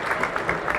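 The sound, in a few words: round of applause for the fans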